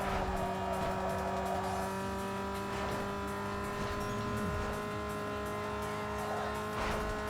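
Car engine in the Need for Speed Underground 2 video game, a steady, loud droning hum that holds constant throughout with faint scraping hints of tyre noise.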